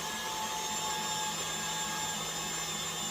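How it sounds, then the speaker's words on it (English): Electric whisk running on high through chocolate cake batter, a steady loud whirring motor drone with a constant high whine, heard alone throughout. "I'm gonna turn the whisk on high."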